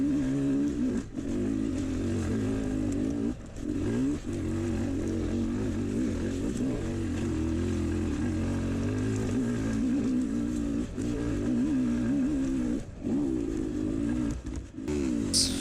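A 2020 Sherco 300 enduro motorcycle climbs a hill in the Ozarks, its engine revving and bogging in uneven bursts with brief dips in throttle, heard steadily from the rider's position with no voices.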